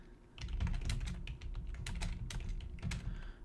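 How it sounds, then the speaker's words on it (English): Fingers typing on a computer keyboard, a steady run of close, crisp key clicks at an irregular pace, with no talking. "And they can just start typing."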